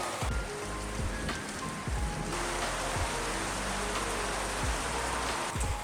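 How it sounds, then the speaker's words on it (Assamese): Heavy rain pours down in a dense, constant hiss, drumming on surfaces close by without a break. "বৰষুণ আহি গ'ল মই বহু সময় ৰখিলোঁ যে বৰষুণ কমিলে যাম কিন্তু বৰষুণ নকমিলে"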